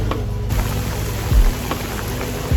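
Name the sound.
rain falling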